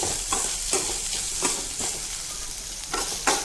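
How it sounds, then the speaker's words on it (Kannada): Finely chopped onion frying in oil for okra gojju, a steady close sizzle broken by regular spoon scrapes and taps against the pan, with no voices. "ಅದಕ್ಕೊಂದು ಈರುಳ್ಳಿನ ಸಣ್ಣದಾಗಿ ಹೆಚ್ಕೊಂಡು ಹಾಕ್ಕೊತಾ ಇದ್ದೀನಿ. ನೀಟಾಗಿ ಫ್ರೈ ಮಾಡ್ಕೊಳ್ಳೋದ."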